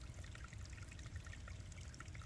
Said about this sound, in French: laisse le son de l'eau là en fond te bercer